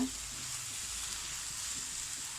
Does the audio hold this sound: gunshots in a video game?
no